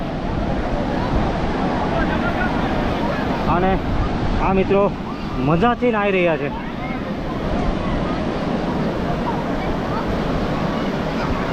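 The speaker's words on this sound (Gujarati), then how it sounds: "જો મિત્રો, ઊંચી ઊંચી લહેર આવે છે, મોટા મોટા મોજા આવી રહ્યા છે" High sea waves crash at Ubharat beach near Surat, Gujarat: a steady, broad roar of surf and wind fills the whole stretch, while someone talks briefly partway through.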